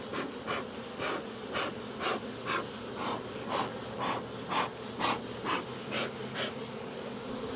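A steady buzzing hum of many honeybees nearby at a hive, pulsing in a regular rhythm about twice a second with no talking.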